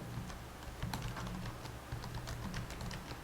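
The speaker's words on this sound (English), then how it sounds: "Let me type it here." Keys clatter on a computer keyboard in quick, uneven bursts of close, crisp taps, steady for a few seconds in a quiet room.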